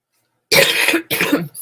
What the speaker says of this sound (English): So you're just going to have to listen to me cough.